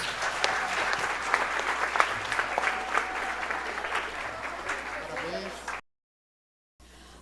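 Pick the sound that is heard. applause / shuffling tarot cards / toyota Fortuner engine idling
applause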